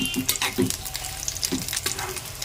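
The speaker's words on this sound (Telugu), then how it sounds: "ఈ విధంగా చక్కగా వేపుకోవాలి" Raw mango pickle ingredients fry in a pan with a soft, steady sizzle and occasional stirring clinks, close and moderately quiet, with no talking.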